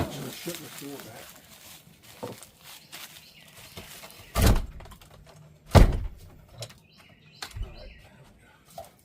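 A vehicle door is shut after an animal is loaded inside, giving two heavy thunks a little over a second apart among other scattered handling noises.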